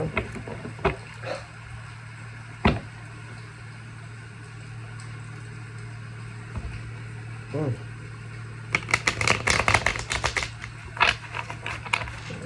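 A deck of tarot cards is shuffled in a dense burst of quick papery flicks near the end, after scattered soft taps over a steady low hum.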